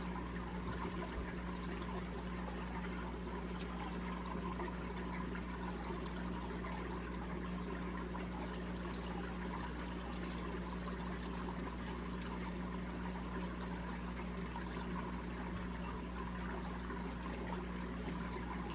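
Water pouring steadily into a fish fry tank, a continuous trickling stream at fairly low level with a constant low hum from equipment beneath it, no talking throughout.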